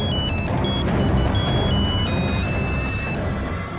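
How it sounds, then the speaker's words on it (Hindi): A mobile phone rings with an electronic incoming-call ringtone of steady, repeating high beeping tones, loud and continuous for about four seconds above a low background hum during a crime-drama ransom call scene. "और अगली सुबह मेहुल की फिरौती का एक कॉल आया"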